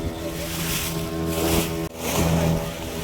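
A boat pushes across the deep open sea off the Konkan coast, a loud steady wash of engine drone, wind and rushing water with a brief dip in the middle.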